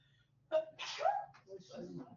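A single quick sneeze bursts out, fairly close, with a voice murmuring just after.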